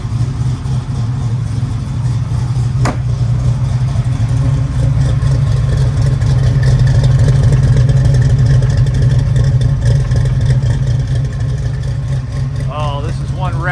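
A 1970 Chevy Nova's engine rumbles loudly through its exhaust pipes, a steady, close, deep drone that holds for the whole stretch with slight swells and no break.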